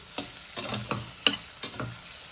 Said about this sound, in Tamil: கொஞ்சம் ப்ரௌனிஷாக வறுக்கணும்.